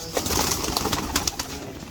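Old-lineage Khaga pigeons, kept for decades by a pigeon fancier, coo in soft repeated throaty rolls, close by and steady throughout, with no talking.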